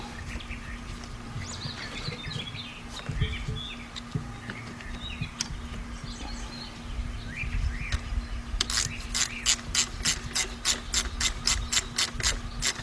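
A ratchet tightening a water pump hose clamp on a Cadillac Northstar-era car, a quick run of about a dozen crisp clicks near the end, after quiet shop ambience with chirping birds outdoors.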